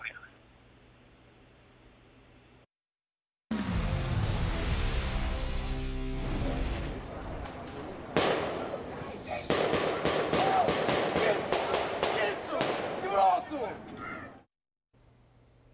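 Dozens of rapid gunshots ring out across city streets in Philadelphia's Nicetown Tioga neighborhood, a dense, crackling burst of overlapping sharp reports lasting about ten seconds, recorded from a distance with a faint murmur before it starts.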